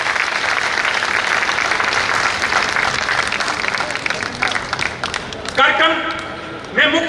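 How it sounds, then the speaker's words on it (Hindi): Crowd at a public gathering in Chandauli clapping to welcome a doctor, a dense, loud burst of applause that tapers off as an amplified voice begins near the end. "अपने डॉक्टर साहब का स्वागत करके तालियों की गड़गड़ाहट से स्वागत और अभिनंदन करेंगे"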